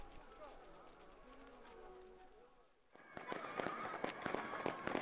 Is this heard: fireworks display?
yes